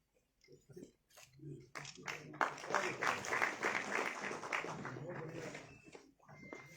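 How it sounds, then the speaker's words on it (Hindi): Audience applause at an investors summit in Aligarh, a dense wash of many hands clapping that swells quickly and holds steady for several seconds before thinning out, with a voice audible near the start. "उन सभी से आग्रह करूंगा जोरदार तालियां बजा करके और इस पल की खूबसूरती में अपना योगदान दें।"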